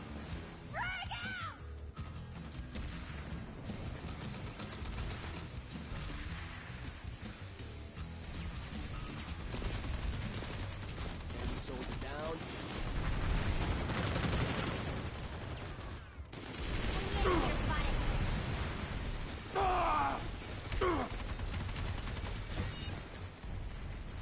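In the video game Planetside 2, gunfire and a frag grenade blast fill a long, busy stretch of combat: scattered shots and crashes sit under continuous game voices and chatter, with louder bursts in the middle and later.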